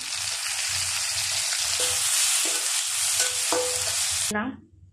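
Onion and tomato sizzling in hot oil for a pangas fish and taro curry, a loud continuous hiss with a spatula scraping the pan at intervals, ending abruptly after about four seconds.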